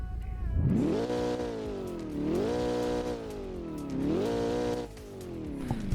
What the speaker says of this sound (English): Why don't we do a rev test?